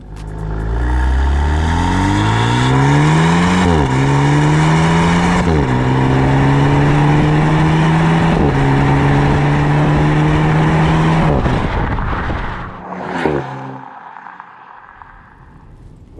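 Maserati Grecale GT SUV in Sport mode with Sport suspension, its exhaust revving hard through repeated rising pulls that drop back with each gear shift, loud and close, then easing off into a quieter idle with a brief blip.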